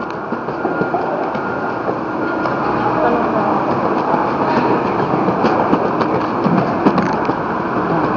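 An airport terminal transfer train rolls with a steady loud rumble and rattle, heard from inside the car, with faint clicks and a noisy broadband hum throughout.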